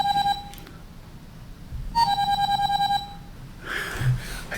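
A mobile phone rings in a lecture room, sounding a steady electronic tone in repeated bursts at moderate distance, followed by rustling and room noise.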